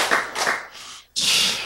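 A lecture audience claps in a few short bursts, the first two rounds of clapping near and moderately loud, then a pause before a louder, denser burst of applause at the end.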